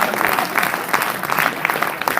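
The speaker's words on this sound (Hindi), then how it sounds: "और आपकी तालियां उठेंगी" An audience applauds at a Hindi poetry recital by poet Sampat Saral, with sustained, dense clapping from a crowd that swells and eases slightly but never stops.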